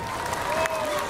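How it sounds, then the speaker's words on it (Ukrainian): Festival audience applauding dancers at a Ukrainian Days outdoor event, a brief steady wash of clapping with a voice and tonal sound mixed in. "Щирі оплески для наших танцюристів!"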